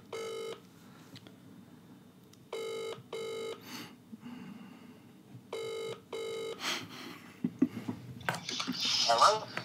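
Ringback tone of an outgoing telephone call, heard as paired electronic rings repeating at regular intervals, faint and close, with quiet room noise and clattering toward the end.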